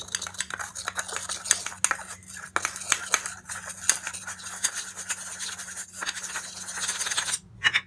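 A spoon mixing charcoal powder face pack in a bowl, steady close scraping and clinking strokes, fairly quiet, without talk.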